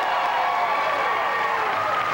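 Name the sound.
crowd applauding at beach volleyball match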